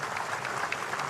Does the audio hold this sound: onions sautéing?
no